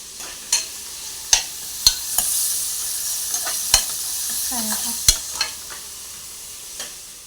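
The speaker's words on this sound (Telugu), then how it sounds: "ఆయిల్ వేసాను కాగింది ఉల్లిపాయలు పచ్చిమిరకాయలు కరివేపాకు వేసుకుని బాగా దారుగా వచ్చేలాగా వేపాలండి" Onions, green chillies and curry leaves fry in hot oil in a cooker, sizzling steadily while a utensil stirs and scrapes the pot in irregular sharp knocks, close by and with no talk.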